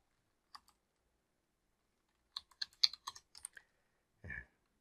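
Keys pressed on a computer keyboard, including F11 and a Ctrl+S shortcut: a single early tap, then a quick run of crisp, close clicks followed by a heavier thump, all in a quiet room.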